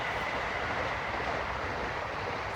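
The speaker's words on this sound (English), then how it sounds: "Still plenty of trains." A passing train beside an allotment plot gives a constant close roar of wheels and carriages, loud and unbroken from start to finish, with no voices.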